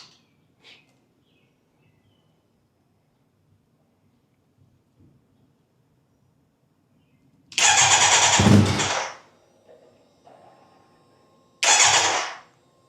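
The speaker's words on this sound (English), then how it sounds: "we're about to get our first start and hear the exhaust for the first time" A Kawasaki Z900 SE motorcycle engine cranks and roars to life loudly for about two seconds on its first start after an ECU reflash, falls silent, then briefly fires again with a short burst of exhaust.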